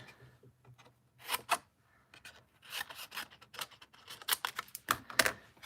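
Scissors snip through paper at a craft table, several short crisp cuts bunched in bursts with brief pauses between, close and fairly quiet, with no talk.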